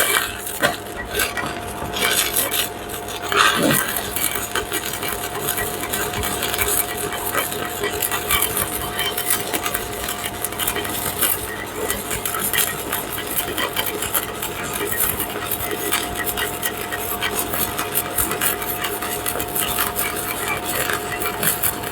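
Stick welding with a BestArc ARC-200 arc welder using easy-running rods: a steady, dense crackling buzz runs continuously for the whole stretch with a faint steady hum beneath, close and fairly loud, no talk over it.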